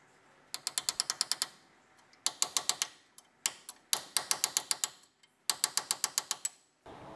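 A hammer strikes an axle seal on a GU Patrol axle in rapid bursts of six to eight sharp metallic blows, each burst separated by short pauses, close and crisp with ringing decay.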